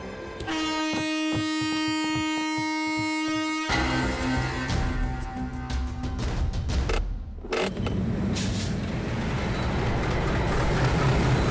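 Passenger train number 11015 gets under way. A sustained tonal horn blast opens, followed by a loud, continuous rumble and rattle of moving rail cars that builds and fills the clip.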